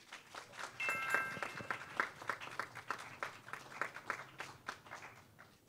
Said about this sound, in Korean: 인천 해원고등학교 친구들을 힘찬 박수로 맞아주시기 바랍니다